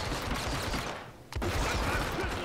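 Gunfire in the video game Hitman Absolution, a dense rattling fusillade of shots that drops out briefly in the middle, then resumes sharply and continues loud to the end.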